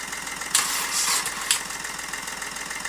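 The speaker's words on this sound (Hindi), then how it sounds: "थोड़ा इंजन घुमाए लेकिन और पावर की ज़रूरत है अभी।" Hyundai Xcent car engine cranking weakly on a jump start from a motorcycle battery, a loud steady whirring churn with two brief surges as the starter turns the engine over without firing.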